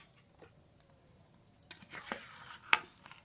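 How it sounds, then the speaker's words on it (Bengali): Stirring sugarcane jaggery as it heats in a pan for chire moa: soft scrapes and light sizzling, quiet and close, with a few sharper clicks from the spoon. "তার জন্য গুড় জাল দিয়ে নেব"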